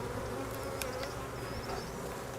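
Honeybees buzzing over a hive frame in a queenless colony, a steady close drone of many wings with a few brief louder passes of single bees.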